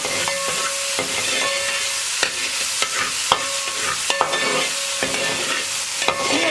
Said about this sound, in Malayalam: ഇനി അരി ഒന്ന് ചെറുതായിട്ടൊന്ന് വഴറ്റിയെടുക്കാം